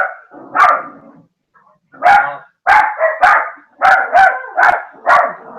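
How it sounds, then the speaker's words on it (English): A dog barks close and loud indoors, one bark, a pause, then a run of about seven quick barks in an uneven rhythm. "The dog's barking."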